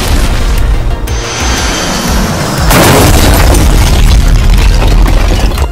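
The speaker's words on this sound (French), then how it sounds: "Et je peux faire des explosions derrière moi." Loud explosion sound effects play in a green-screen setting: a heavy boom rolls out near the start, then a second blast hits at about three seconds and leaves a dense, sustained roar.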